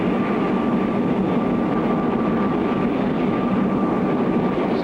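Jet aircraft building velocity toward supersonic speed ahead of a 9G pull-out test, a loud, steady broadband roar with a constant whine, unbroken throughout.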